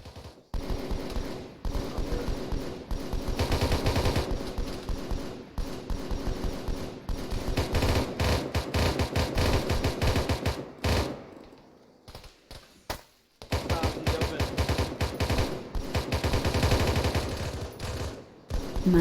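Light machine gun fire in a video game, long rapid sustained bursts of shots, loud and close, broken by a few short pauses before resuming heavily, with no talking.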